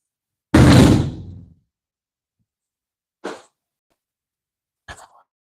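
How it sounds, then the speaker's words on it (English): A door shuts in a quiet indoor room with one loud thump and a tailing rattle, followed by two fainter, brief knocks a few seconds apart. "let me close this door"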